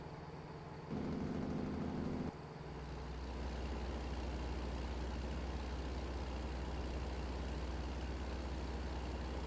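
Truck engine in a driving game set in Montana, heard as a low steady idle and drone with a brief hiss like an air brake early on, continuous and fairly quiet.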